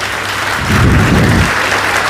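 An audience applauds children's dance performers and their teachers at a royal haveli, dense clapping that swells louder partway through and then settles back to a steady level.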